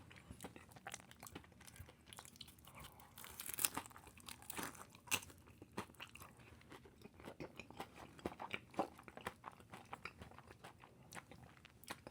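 Crispy Taco Bell tortilla bowl being bitten and chewed up close, repeated crunching and crackling bites with softer chewing in between, quiet and irregular.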